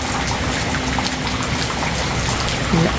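Steady rain falling outside a house in a crab-filled rural area, a dense continuous hiss of drops pattering on surfaces, close and even throughout with no voices.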